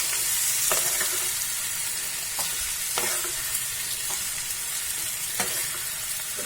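Chopped tomatoes fry in a pan for shahi paneer, a bright continuous sizzle broken by several spaced scrapes and clicks of a spoon stirring against the pan.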